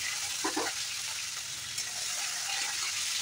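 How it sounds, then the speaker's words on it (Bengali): Chopped garlic frying in oil with tempering spices over a medium-low gas flame, a steady bright sizzle filling the whole clip with a brief stirring scrape near the start. "রসুন লাল করে ভেজে নেওয়ার পর"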